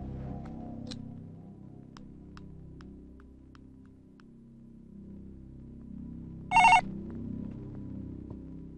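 A telephone rings in a short, bright burst partway through a quiet indoor movie scene, standing out briefly above a low, steady hum.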